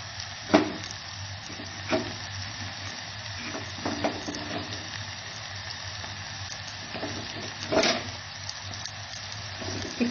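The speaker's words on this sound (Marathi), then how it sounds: "आता आपण यात पहिल्यांदा मसाले परतून घ्यायचे. हळद, तिखट" Turmeric and chili powder frying in a pan with onion, tomato and fresh cashews for chicken rassa, a steady close sizzle broken by periodic spatula scrapes and knocks against the pan, with no voices.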